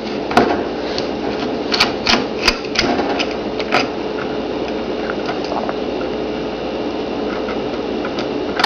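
Screws coming out of an Asus G71GX laptop during disassembly: a cluster of sharp clicks and ticks from the screwdriver and small parts early on, then quieter faint ticking over a steady background hiss, near and without talk.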